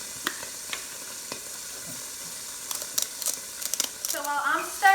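Sizzling food stirred in a pan alongside spaghetti and meatballs being cooked, a quiet steady fry broken by scraping strokes that cluster toward the end, where a voice briefly speaks.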